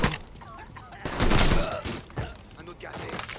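Gunfire in the video game Mafia III: a loud, dense volley of shots swells in the middle, with smaller bursts around it and voices talking over the fighting.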